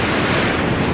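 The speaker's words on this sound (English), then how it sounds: "Ooh, check out the river." A river rushes outdoors in Breckenridge, Colorado on a summer day, a steady, loud, broadband wash of flowing water with some wind buffeting the microphone.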